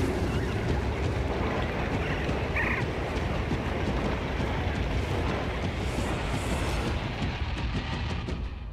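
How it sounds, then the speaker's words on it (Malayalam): A storm of rain and thunder in the prehistoric video game Far Cry Primal: a dense, unbroken rushing roar of downpour and wind that holds steady throughout, with no voices. "ഇടി വെട്ട് മഴ"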